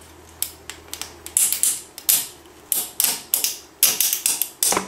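Adhesive-backed Click Bond fastener fixtures being pulled off a Kubota BX25D tractor mirror, heard as a series of sharp, close tearing and snapping bursts in an irregular rhythm with short gaps between them.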